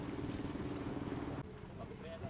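A boat cruising on the Barito River, with steady engine and water rumble mixed with wind buffeting the microphone, close and continuous, shifting slightly partway through.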